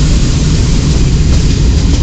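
The Teesta Torsa Express rolls along at speed, a loud, dense, unbroken rumble of wheels and carriage noise heard from inside the moving train.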